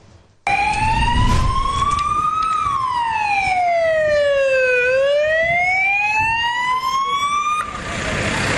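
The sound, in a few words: ambulance sirens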